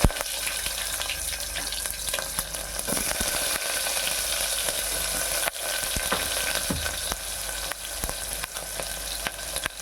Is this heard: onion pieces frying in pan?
yes